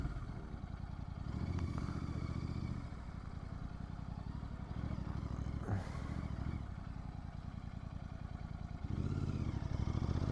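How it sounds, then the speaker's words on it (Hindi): Motorcycles pass along a road in Delhi, their faint engine rumbles rising and fading in several separate passes against steady background noise. "तो यहाँ पर भी बहुत सारे बाइक्स"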